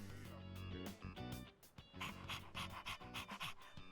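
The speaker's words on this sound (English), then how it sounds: "he doesn't bite, does he? I'm actually a little afraid of dogs." A dog pants in quick, rhythmic breaths in Persona 3 Reload, the steady huffing running under layered game music.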